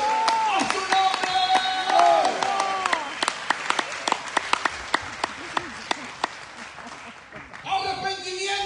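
Applause from a church congregation, with crowd voices over it at first, then thinning to scattered individual claps before singing or speech returns.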